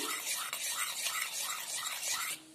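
A spoon stirs a pudding ingredient into a small splash of water in a bowl, quick rhythmic scraping and clinking that repeats several times, close and moderately quiet.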